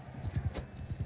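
Horse hooves clip-clop in a few quick, close thuds during a joust in the video game Bannerlord, sounding alone with no talk.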